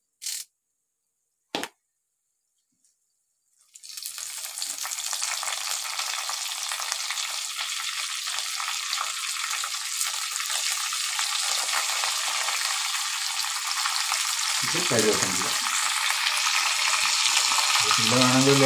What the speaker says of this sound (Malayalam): ഈ കടുകും കാന്താരി മുളകും എല്ലാം കൂടി ഒന്നങ്ങട് ആ ഉലുവയൊക്കെ ഒന്ന് എണ്ണയിൽ നന്നായിട്ട് ഒന്നങ്ങട് ഫ്രൈ പോലെ ആവണം